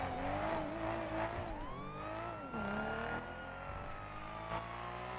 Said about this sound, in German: ich fahre jetzt gerade wie ein Vollidiot, um ihn irgendwie abzuschütteln